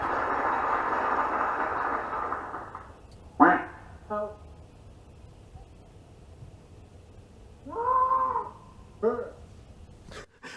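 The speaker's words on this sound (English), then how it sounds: "The goat's pretty good." After a fading rumble, a few short, nasal goat bleats from a Tesla car's speaker sound in separate bursts, thin and tinny.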